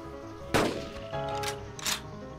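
Gunshots in Carnivores Dinosaur Hunt come as one sharp, loud shot with a rolling echo, followed by two shorter reports spaced about half a second apart.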